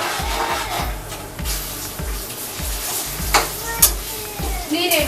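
Ground spice mixture poured into a pan of chana and urad dal frying in oil, giving a steady loud sizzle with scraping stirs and a few sharp bursts near the end.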